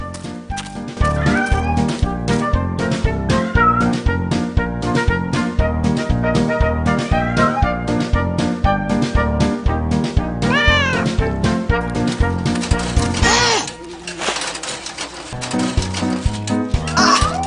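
Cat meowing, with repeated drawn-out, pitch-bending cries over a loud, busy rhythmic music track, ending with a brief drop in the music before it resumes.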